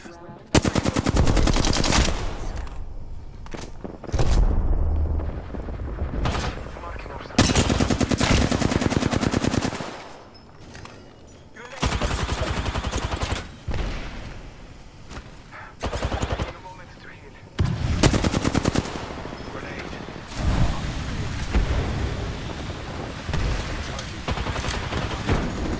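Loud gunfire from the battle royale game Apex Legends comes in repeated rapid automatic bursts separated by short pauses, dominating throughout.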